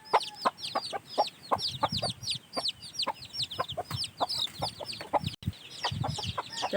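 Several hens cluck and squawk together at close range in a rapid, busy chorus around laying time, with no talking over them.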